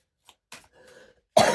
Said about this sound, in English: For clearing my throat.